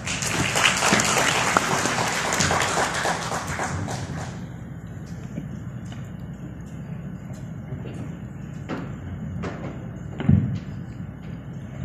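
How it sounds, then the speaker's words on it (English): An audience at a hotel roadshow event claps loudly for about four seconds, then the applause fades into quiet room noise with scattered thumps and a brief bump near the end. "Let's please give him a warm round of applause."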